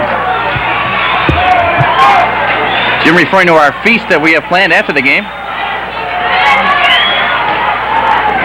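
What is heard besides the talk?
football crowd cheering in the stands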